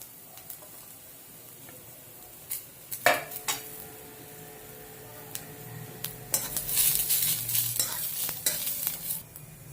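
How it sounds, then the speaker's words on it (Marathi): Garlic and ginger roasting with onion and fresh coconut in a pan for Maharashtrian misal: steady sizzling under repeated scraping and stirring, with sharp metal utensil clinks near the middle and a louder clattering burst toward the end, no voices. "आता आपण लसूण आणि आलं त्यावर भाजून घेऊया"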